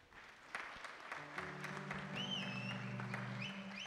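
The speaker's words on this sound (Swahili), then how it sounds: "Tuwapigie makofi." A church congregation at a Sunday service claps for a couple, light scattered applause that builds slightly while a sustained organ-like tone plays underneath.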